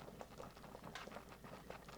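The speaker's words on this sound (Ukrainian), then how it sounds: "На повільному вогні страва легенько томиться та булькає." Ribs wrapped in cabbage leaves simmer gently in a pot over low heat, giving soft, quiet, irregular bubbling and popping that runs throughout.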